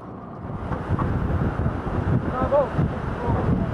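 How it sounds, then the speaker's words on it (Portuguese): Strong wind gusts batter the microphone aboard the sailing ship Santa Maria Manuela, making a rough, rumbling buffet that swells and dips over a few seconds with faint water sounds beneath. "fui surpreendido com rajadas de vento absolutamente inesperadas na hora dos 35, 40 nós"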